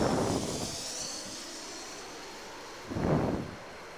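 A JetBlue Airbus A220 jet from Boston passes at a distance, a faint airy engine roar fading out, followed by a brief louder gust-like swell of noise near the end.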